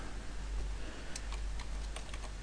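Light computer keyboard typing, a short run of soft irregular key clicks over a steady low hum, close but quiet.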